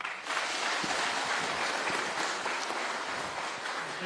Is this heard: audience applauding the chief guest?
yes